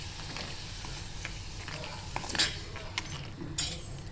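Shrimp stir-frying in a hot pan, a steady close sizzle under repeated scraping and stirring strokes with a few sharper clinks of a utensil against the pan.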